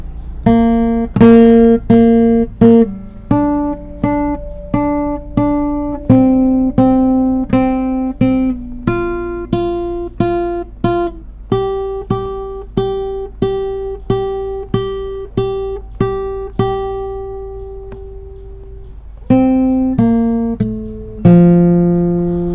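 A solo guitar picks the melodic introduction of a song, single plucked notes ringing close and clear in a steady pattern, with a short pause near the end.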